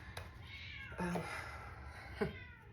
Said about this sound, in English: The cat is meowing at the door.